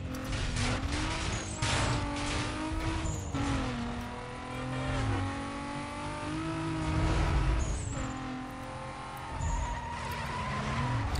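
Car engines roar and shift pitch during a race in Need for Speed Most Wanted, with revving surges, tire squeals and skids over continuous loud road noise.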